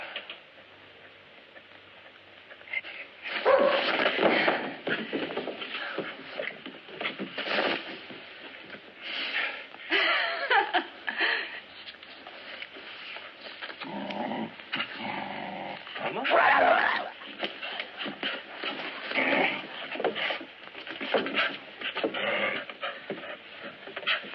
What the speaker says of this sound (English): he's only a pup, a baby, practically